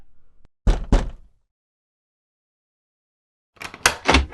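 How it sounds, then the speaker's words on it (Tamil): Knocking on a door in a Tamil romantic film scene: two short bursts of firm, fairly loud raps separated by a few seconds of silence, with no voices. "ஒருத்தர் வந்து எவ்வளவு நேரமா கதவு தட்டிட்டு இருக்காரு?"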